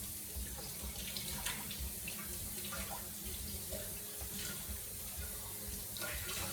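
Tap water runs steadily into a kitchen sink to dampen a kitchen towel, a soft continuous hiss and splash heard at low volume with no voices.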